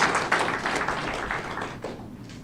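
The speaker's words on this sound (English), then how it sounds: "Let's give the young man a round of applause." An audience claps for a young steelpan player at a formal ceremony, a brief round of scattered hand claps that thins out and fades near the end.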